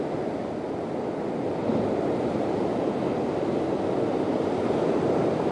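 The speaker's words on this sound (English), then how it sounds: "Listen to that water." Ocean surf churns at Devil's Punchbowl in Newport, Oregon, a steady rushing roar of waves against rocks, with moderate splashes swelling slightly midway and wind buffeting the microphone.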